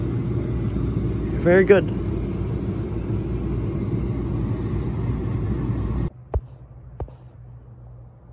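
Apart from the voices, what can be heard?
new oil furnace running and blowing heat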